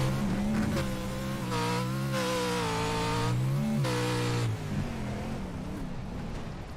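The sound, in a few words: racing truck braking and accelerating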